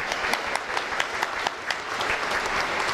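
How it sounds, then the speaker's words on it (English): A full-house audience at a Sun City Harmonic Coots jamboree applauds steadily throughout, a dense wash of many hands clapping at close-to-moderate distance with no talk on top. "Give yourselves a round of applause"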